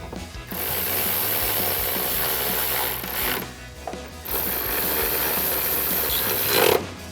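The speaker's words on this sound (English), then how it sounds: "take your 13mm socket and tighten both of those down" Running board bracket bolts being tightened with a 13mm socket during a Sidewinder running board install on a 2022-2024 Toyota Tundra: two long, rough, mechanical rattling bursts with a brief pause between them, close up and without speech.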